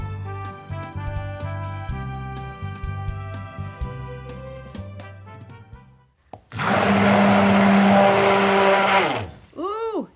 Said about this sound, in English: I think my motor on my cheap stick blender is gonna die soon